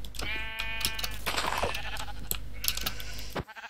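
Minecraft sheep bleat in short repeated cries over game background sounds, fairly loud and close, with no talk over them.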